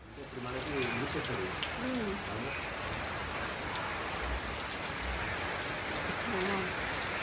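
Heavy daytime rain in Sri Lanka pours steadily in a dense, even hiss of drops on surfaces, close and continuous, with faint voices murmuring underneath at moments.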